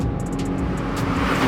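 A Nissan GTR 50th Anniversary Edition accelerates hard with a loud, steady roar and deep engine drone, heard from inside with continuous broadband rumble.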